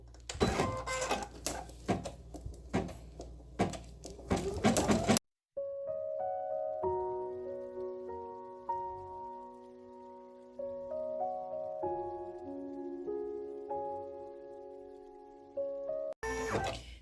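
Embroidery machine stitching an appliqué satin border around a lion's mouth, a steady mechanical whir with shifting tones running alone for most of the stretch, opened by a louder rapid chatter of stitching.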